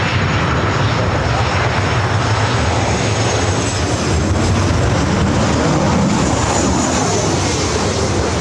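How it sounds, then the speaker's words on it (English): A Southwest Airlines Boeing 737-700 lands at LAX with a loud, continuous engine roar that fills the whole stretch, steady and close, with no pause. "This arrival is Southwest Airlines Flight 210 coming in from Phoenix on the 737-700."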